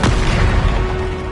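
A Repulsor spell blast in Hogwarts Legacy lands as a single loud, close, booming burst with a sharp onset that decays over about a second.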